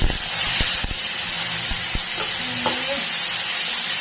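Ground momo chutney paste fries in a pan with a steady sizzle and hiss, with a few sharp knocks and scraping stirs throughout, close and fairly loud.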